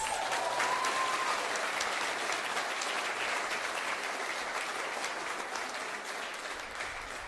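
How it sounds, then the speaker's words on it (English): A crowd at a high school college signing ceremony claps steadily for the signee, a dense, sustained round of applause that stays even and eases slightly toward the end. "let's give Jada one more round of applause"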